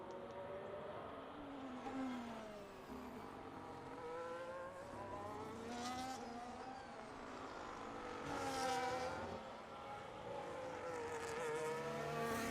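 F2 race cars lap a Brazil circuit in a racing video game, several engines whining and revving at high pitch with rising and falling passes, a steady, fairly faint layered drone of cars on track.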